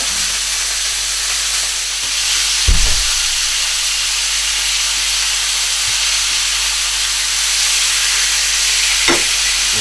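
Potatoes fry in a pan beside a cote de boeuf, giving a loud, steady close sizzle and hiss, broken by a couple of brief low thumps from pan handling.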